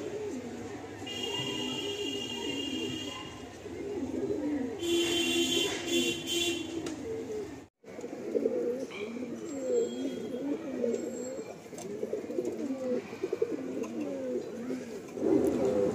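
Pigeons cooing in a loft, soft repeated low coos layered over one another, with chirps and brief rustling, continuous and moderately near.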